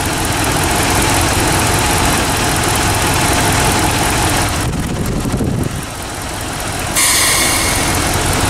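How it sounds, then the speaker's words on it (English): A 3rd-generation Dodge Ram truck engine idles steadily and loudly under a constant rush of fan wind, with a brief dip in the noise partway through. "we got the truck running"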